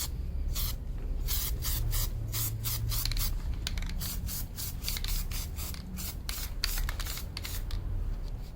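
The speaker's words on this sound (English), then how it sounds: "this is Loctite brand spray adhesive" Loctite spray adhesive hissing out of an aerosol can onto an aluminum plate, a string of short, sharp spray bursts in an uneven rhythm, close and fairly loud.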